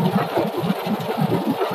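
Ford Focus C-Max car engine with VGT accelerating on an uphill road, a steady low rumbling drone heard from inside the car with a slight rhythmic pulse, moderately loud and continuous without talk.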